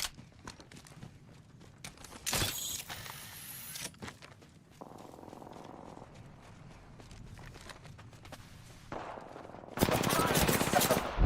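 Enemy gunfire in the Apex shooter game: bursts of rapid automatic fire arrive in short volleys between quieter stretches of footsteps and mechanical clatter, ending with a loud sustained burst.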